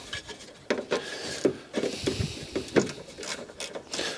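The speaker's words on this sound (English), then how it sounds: "we'll do it up with a ratchet screwdriver and get it on the bolt" A ratchet screwdriver tightens a bumper bolt on a 2013 Fiat 500 Lounge, making a run of close, irregular clicking and rasping ratchet strokes with brief pauses between turns.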